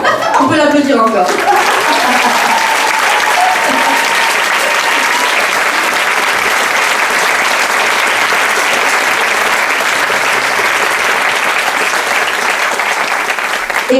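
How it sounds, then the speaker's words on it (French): An audience applauds a burlesque performer, loud sustained clapping from a full crowd that fills the room, with a brief burst of voices at the start. "on peut l'applaudir encore"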